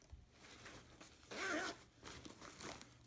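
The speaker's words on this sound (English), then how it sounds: "Zippered pockets here." A zipper pulled along a pocket of a 5.11 Rush 24 tactical backpack: one quick, close zip rasp, loudest in the middle, with faint fabric handling around it.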